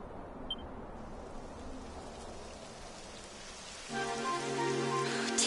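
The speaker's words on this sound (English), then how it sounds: "It would have to go and start raining, wouldn't it?" Steady rain pours down in the Dragon Quest XI video game, a dense, even hiss that runs throughout, with game music swelling in underneath for the final second and a half.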